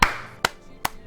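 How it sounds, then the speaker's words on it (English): Three sharp, close hand claps, evenly spaced about half a second apart and each ringing out briefly, given as a small round of applause for the VR game I Expect You To Die. "That's an applause."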